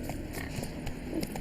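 Roach the horse gallops in The Witcher 3, a steady, fast run of muffled hoofbeats carrying on without a break at moderate loudness.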